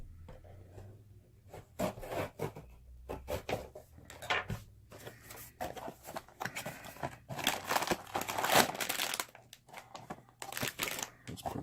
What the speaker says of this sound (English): I'm gonna get my knife and cut this open.